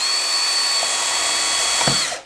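A power drill whines steadily at high speed for about two seconds while boring through plywood, then a short bump as it winds down and stops.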